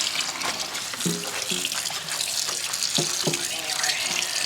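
Tap water runs steadily into a kitchen sink while greens are laid down and washed, a continuous close hiss with occasional brief voices and handling sounds on top.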